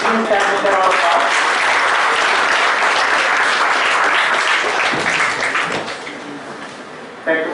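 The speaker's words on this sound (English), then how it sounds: "Please stand with your applause." Audience applause at an Independence Day celebration as a guest is honoured with a bouquet, loud sustained clapping from a crowd that thins and fades near the end before a short final burst.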